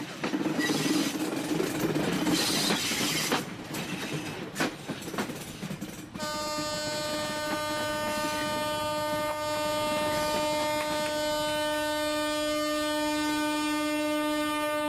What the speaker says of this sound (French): Vitesse moyenne de la locomotive diesel qui s'élance en direction de l'océan Indien, 30 km/h.